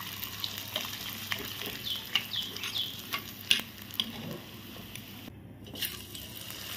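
Food frying in oil makes a soft, steady bubbling sizzle with scattered small pops and light stirring, fairly quiet and close.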